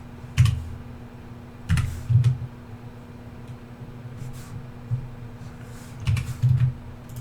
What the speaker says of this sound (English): Oh, I gotta type in onyx first.